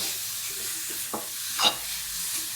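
A radish paratha filling is sautéed and stirred in a pan, giving a quiet, steady sizzle with a couple of short spatula scrapes close by.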